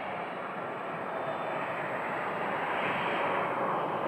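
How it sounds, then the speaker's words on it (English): An Airbus A321-200 Frontier airliner bound for Baltimore passes an airport terminal, heard as a steady, broad jet roar that holds even and slightly swells toward the end. "That flight right there, the Airbus A321-200, is headed across the country to Baltimore tonight."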